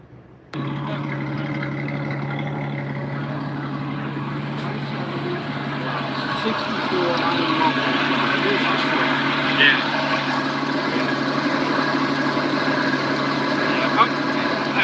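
A Honda CBR motorcycle engine with a rough-running fault kicks in abruptly, then drones on in a steady, loud, close idle with a low hum throughout. A voice is heard over it.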